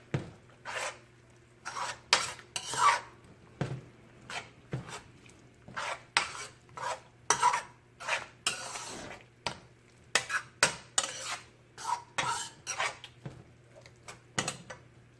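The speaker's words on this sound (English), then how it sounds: "Just going to mix all this around, you guys." A spoon stirs a spinach and bacon dip mixture seasoned with pepper, giving a steady series of soft scraping and clinking strokes against the pan, close and fairly quiet.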